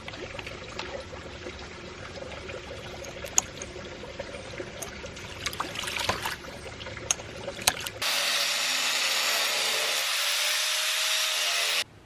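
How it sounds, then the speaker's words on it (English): Water rushes steadily from a ram pump outlet in winter, a loud continuous hiss and splash taking over after a stretch of scraping and knocking outdoor noise. "That water from the ram pump is still flowing in pretty good there."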